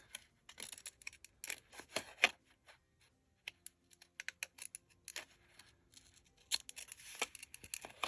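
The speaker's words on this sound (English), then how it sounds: "We'll bring out the lacy edge scissors to get us across." Lacy edge scissors cut across paper in a craft project, giving quiet, irregular snips and crisp rustles in short clusters separated by brief silences.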